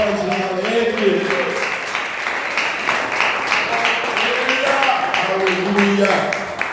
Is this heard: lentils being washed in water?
no